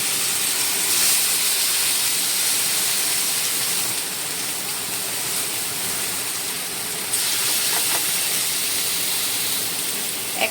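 Fish frying in hot oil in a pan, giving a steady, fairly loud sizzle and hiss throughout with a slight swell partway through.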